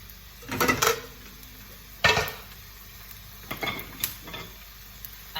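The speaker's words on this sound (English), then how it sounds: "then you can just add the rice in." Rice goes into hot oil in a wok or stainless steel pan for gluten-free egg fried rice, with bursts of crackling sizzle and clattering stirring strokes, close and moderately loud, between quieter pauses without speech.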